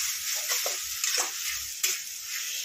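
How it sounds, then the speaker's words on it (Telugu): Gongura chutney paste sizzles in oil while a spoon stirs it, making a continuous hiss with soft scraping strokes and one sharper knock; close up and without talk. "ఇంకా బాగా స్మూత్ వచ్చేదాకా ఫ్రై చేసుకోవాలి ఆయిల్లో. కలుపుతూ ఉంటే బాగా స్మూత్ అయిపోతుంది."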